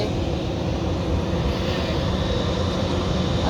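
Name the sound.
airplane taking off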